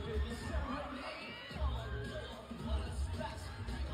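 A concert crowd at a show in Bacolod cheers and shouts continuously, the swell heard from a distance with steady roaring hubbub and occasional louder surges.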